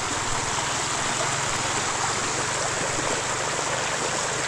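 Steady broadband rush of flowing stream water at Kanhatti Garden in Soon Valley, continuous and fairly close, with a faint low hum underneath and no voices.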